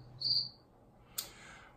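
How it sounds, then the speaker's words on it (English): Mistimed cricket chirping used as a comedic sound effect after a pun, a short chirp burst early on followed by a sharper chirp near the end, quiet and isolated with no talk. "With mistimed crickets"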